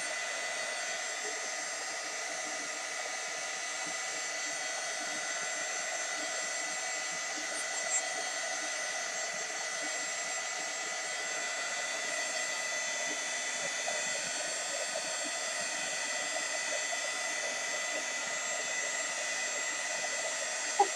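A heat tool blows a constant, even whoosh as it dries paint on a crafted album, holding a steady moderate level throughout with no talk.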